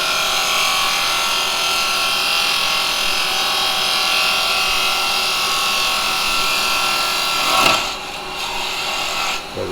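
A spindle gouge cuts steadily into wood spinning on a lathe, a continuous bright scraping hiss that runs loud and even before a brief change near the end as the tool lifts off.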